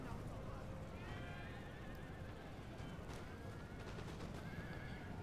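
Cavalry horses neigh and whinny on a Napoleonic battlefield in Napoleon Total War, several calls overlapping over a constant low rumble of hooves and battle noise, with a voice talking throughout.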